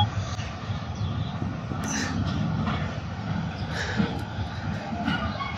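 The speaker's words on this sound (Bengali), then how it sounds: "এখন বগিগুলোকে আলাদা করে যে তেলের ট্যাঙ্কারগুলো আছে এগুলো আলাদা একটা লাইনে প্রবেশ করানো হচ্ছে" Train shunting oil tanker wagons onto a separate line, a continuous low rumble of rolling wagons with faint squeals, moderately close.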